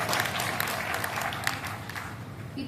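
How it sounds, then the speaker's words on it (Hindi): Audience applause at a Hindi poetry recital (kavi sammelan) in Sojat, a steady wash of clapping from a crowd, fairly dense and even, with a faint voice near the end. "एक बार तालियां बजाइए"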